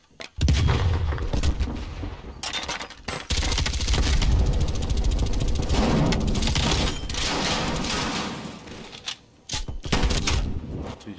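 Gunfire rattles through a team deathmatch round of Call of Duty Black Ops Cold War on the Cartel map, with dense, loud bursts and shots cut by brief pauses.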